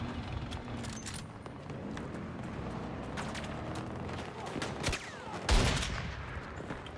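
Light machine gun fire in the game Battlefield, dense rapid bursts of shots and impacts throughout, with a louder blast near the end, all at moderate level with no speech.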